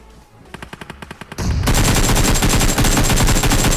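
Gunfire in the PUBG video game: a rapid burst of individual shots, then a loud, sustained full-auto stream of machine-gun fire, close and dense, with no speech.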